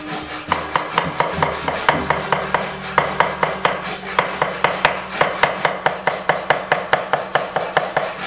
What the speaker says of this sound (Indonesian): Habis itu Kunirnya kita cincang juga kecil-kecil